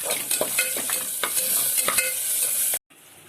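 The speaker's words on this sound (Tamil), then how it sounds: "இப்போ எடுத்து வச்சிருக்க சாம்பார் வெங்காயம் பொடியா நறுக்கியது போடுறோம்." Finely chopped sambar shallots fry in hot oil in a pan, giving a steady bright sizzle broken by repeated scraping and clinking strokes of a stirring spoon, before the sound cuts off abruptly.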